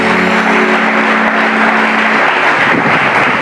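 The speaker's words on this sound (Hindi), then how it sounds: "सही बताया तो ताली बजा दो।" A studio audience applauds loudly and continuously for a few seconds, a dense wash of clapping in a television talk-show setting.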